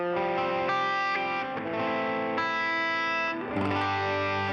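An electric guitar through a Klon overdrive on a Helix unit, strummed chords ringing out warm and driven with sustained, slightly distorted tone and no talk.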